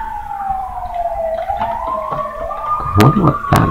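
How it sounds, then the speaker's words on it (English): A wailing emergency siren rises and falls steadily outdoors, fairly loud and clear, with a couple of sharp clicks or knocks near the end and no talking over it. "Wow, there's a lot of sirens outside."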